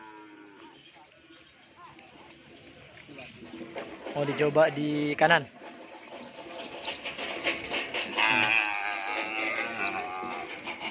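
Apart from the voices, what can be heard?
cattle mooing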